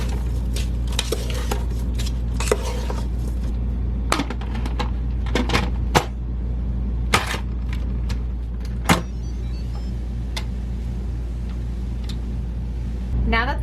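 Vegetables sautéing in a pressure cooker with salt, dried oregano, minced onion, red pepper flakes and a bay leaf: a steady sizzle with scattered sharp clicks and clatter of a utensil stirring against the pot.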